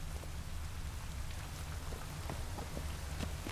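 Steady rain falls across an outdoor scene in The Witcher 3, a dense hiss of drops with scattered louder splashes over a low rumble, with no voices.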